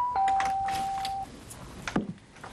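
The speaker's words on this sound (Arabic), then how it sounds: "هضرب الجرس تاني" A door buzzer rung again at a closed door; one steady electronic tone lasting about a second, followed by a brief knock-like thud, close and clear.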